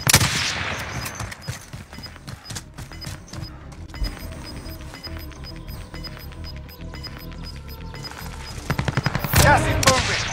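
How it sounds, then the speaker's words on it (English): Gunfire in a video game battle royale shootout: a sharp opening burst, then scattered shots and rapid automatic bursts, with a loud final volley of cracks near the end, mixed with game ambience. "Oh, I'm being shot from the side."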